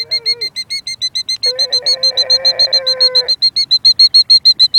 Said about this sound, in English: We're talking to birds.